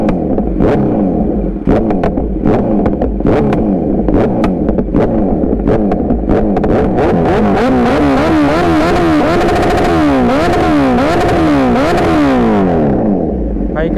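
A motorcycle engine revs hard again and again, with sharp popping backfire cracks bursting through the loud, close exhaust roar.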